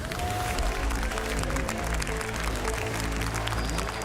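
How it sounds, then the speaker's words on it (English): Clapping and crowd noise at the Clash Royale League 2023 World Finals esports event, a broad wash of applause over a loud arena hum with music or tones underneath. "Let's one more big round of applause for our full field at this 2023 World Finals."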